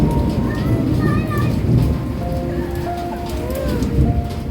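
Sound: rain falling

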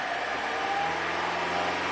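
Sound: Toyota Corolla D4D 2.0 diesel engine revving

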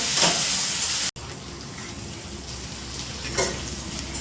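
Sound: frying ginger and garlic in a pan

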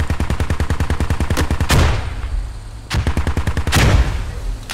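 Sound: gunfire in the video game Squad

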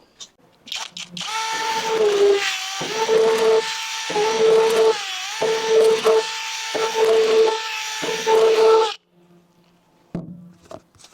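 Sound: drill on protective car film

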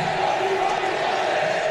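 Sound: recorded football crowd noise played in an empty stadium

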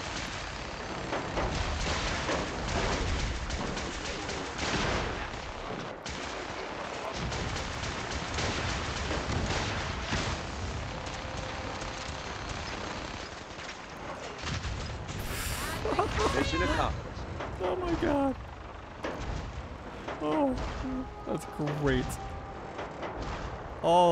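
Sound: explosions in the video game Fallout 4

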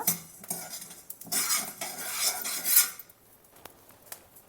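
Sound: dry-roasting wheat grains in a pan

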